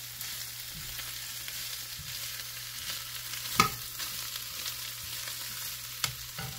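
Chicken and carrots fry in a pan under a steady sizzle, with a spoon scraping and stirring now and then and one sharper knock partway through.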